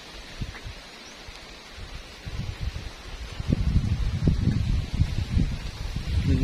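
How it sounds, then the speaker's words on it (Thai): Blustery wind buffets the microphone, building into heavier low rumbling gusts in the second half, with a faint rustle underneath. "ลมแรงครับ"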